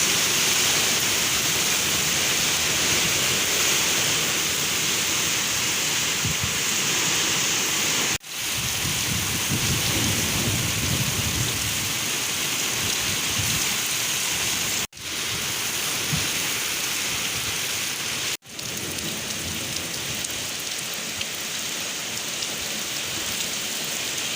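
Heavy, steady rain pours down during a thunderstorm in Rivne region, a dense continuous hiss and drumming on surfaces with a low rumble beneath, interrupted only by a few abrupt brief cuts.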